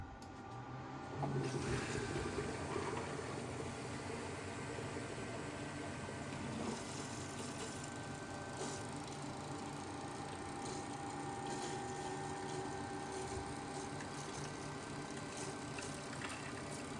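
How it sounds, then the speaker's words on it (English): A pump on an xTool P2 55W CO2 laser starts up and runs steadily, filling the laser tube with coolant, with gurgling, rushing liquid flowing through it throughout, fairly quiet and continuous. "we'll power the unit up. It will fill the tube up with some of that fluid"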